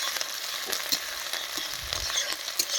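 Chopped garlic, green chilies, onion and tomato sizzle in hot oil for a winter mixed vegetable sabji, a dense continuous crackle punctuated by a few stirring scrapes and taps, close and steady.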